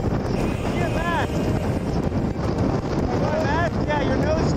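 Strong wind on Mount Washington buffets the microphone in a steady, roaring rush, with faint whistling tones drifting above it and no speech.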